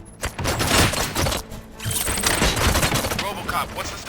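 Gunfire in the video game RoboCop: Rogue City: a loud, close burst of rapid shots, a brief pause, then more sustained firing mixed with impacts and game effects.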